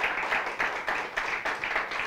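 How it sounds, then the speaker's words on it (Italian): A church congregation at an evangelical revival meeting in Puglia claps, a fairly faint applause with a steady rhythmic pulse, as if clapping in time. "Adesso lo vogliamo accogliere con un applauso"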